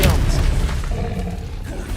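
Expelliarmus spell cast in Hogwarts Legacy: a loud, deep booming impact right at the start that rumbles and fades over about two seconds, with a voice faintly underneath.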